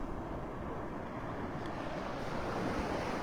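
Surf washing onto a Gulf beach at Delnor-Wiggins in North Naples, Florida, a steady, continuous roar of breaking water with wind buffeting the microphone throughout.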